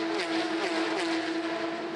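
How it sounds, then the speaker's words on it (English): Porsche Carrera Cup race car engine of about 450 horsepower at the Adelaide street circuit, a loud sustained high-revving howl close by with slight pitch shifts, no talk. "That's 450 horsepower as Percat is trying to line up a move on Steve Richards"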